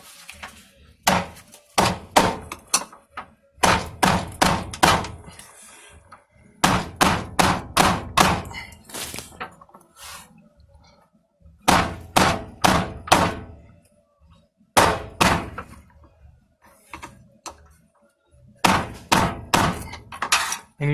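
A hammer taps the metal fuel pump lock ring on a 2008 Dodge Ram 5.7L in quick clusters of sharp knocks. Each burst has four to six strikes, and brief pauses separate the bursts. The work is close and loud.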